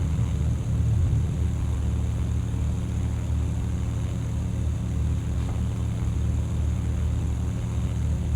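Aerobask Pipistrel Panthera v3 single-engine aircraft in flight just after takeoff in X-Plane 11, a constant loud low engine and propeller drone with a steady rumbling hum throughout and no voices.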